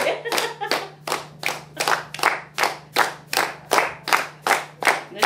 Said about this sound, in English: Clap for you.